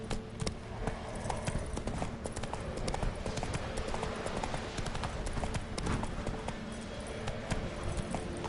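Roach the horse's hooves clip-clop steadily in The Witcher 3, a dense, even rhythm of hoofbeats close up over game ambience, no speech.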